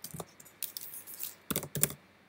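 Computer keyboard keys tapped in short irregular bursts, a few clustered clicks early, then a pause and two quicker flurries, close and crisp with no one talking.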